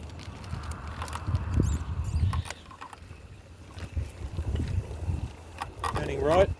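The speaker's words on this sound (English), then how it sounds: "When I turn right, I get this like a rattling sound." Rattling from the front wheel area of a bicycle as it turns right, heard as irregular light clicks and taps over road noise and passing traffic, fairly faint and close.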